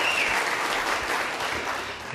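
Steady applause from a crowd at a political party leadership debate, a dense continuous clapping that fills the whole moment before tapering slightly at the end.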